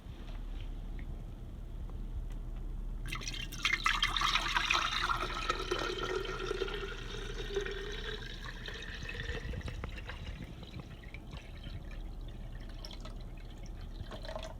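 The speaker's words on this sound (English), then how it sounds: "So there I'm filling up the pitcher." Tap water pouring into a water filter pitcher, starting abruptly after a few seconds of quiet room noise and continuing as a steady splashing stream that slowly settles. No one speaks.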